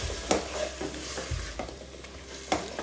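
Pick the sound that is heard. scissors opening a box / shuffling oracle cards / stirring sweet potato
stirring sweet potato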